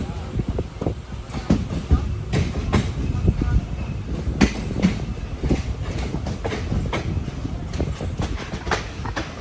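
The Matsyagandha Express pulls into Udupi railway station with loud rumbling and repeated clattering wheel clicks over the rails, a steady rolling din with sharp metallic knocks throughout.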